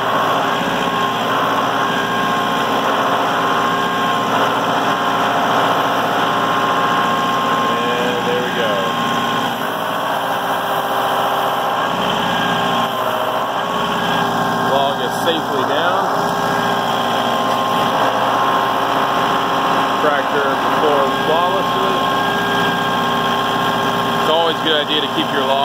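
A Massey Ferguson 2705e tractor engine runs steadily at about 1800 RPM, just above idle, while moving logs in a log storage area; a continuous, loud drone with a faint overlaid whine holds for the whole stretch.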